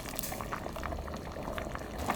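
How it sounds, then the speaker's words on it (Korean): Noodles and chicken boil in a pot, a steady bubbling and seething simmer, close and moderately quiet, with no talking. "이래갖고 국수가 익을 때까지 팡팡 끓여주세요."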